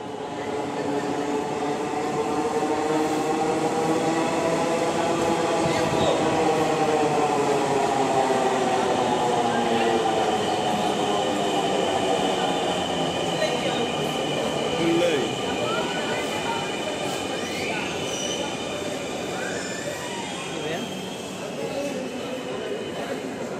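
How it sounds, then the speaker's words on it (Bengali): A metro rail train enters a station, a loud sustained rumble with a rising and falling electric motor whine that builds and then settles over about twenty seconds, with no talk over it. "ঠিক 1 মিনিট শেষ হতে না হতেই মেট্রো রেল স্টেশনে প্রবেশ করে।"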